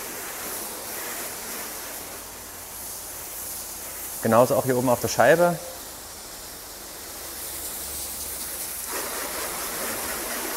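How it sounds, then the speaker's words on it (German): Water sprayed onto a car with a hose to rinse it, a steady broadband hiss running throughout and briefly interrupted by someone speaking over it. "Es geht direkt los mit dem Wasser absprühen."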